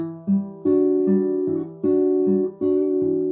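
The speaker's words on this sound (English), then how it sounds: "you're going to slightly bend the strings out of their place to get a slight shift in the pitch" An acoustic guitar plucks strings two and three in repeated paired notes, each lightly bent for a small pitch shift, ringing clearly and alone in a slow, even rhythm.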